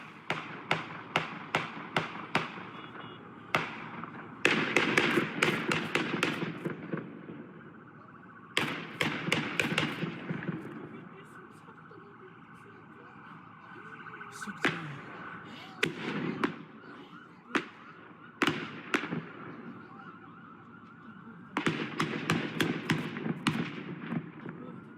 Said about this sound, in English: you can hear those dozens of gunshots